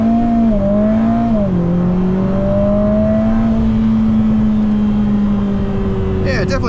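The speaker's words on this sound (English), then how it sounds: "hard on the brake, full throttle, launch control." Lotus Emira First Edition with the AMG 2.0-litre turbo four launching at full throttle, a loud steady engine drone climbing in pitch with a brief dip at a gear change, close and continuous.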